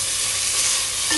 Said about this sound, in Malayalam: ഇനി ഇതൊന്ന് അത് കുഴച്ച് മറിച്ചെടുക്കുക.